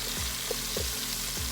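Beef morcon, Kapampangan style, sears in a frying pan with a steady close sizzle that never lets up, broken by a few soft stirring knocks and scrapes.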